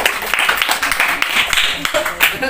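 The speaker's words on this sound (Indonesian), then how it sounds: "Tepuk tangan dong untuk Fadilah" A student audience at an Islamic boarding school event for a student presidential election claps for Fadilah, a loose, uneven burst of hand claps with voices talking over it.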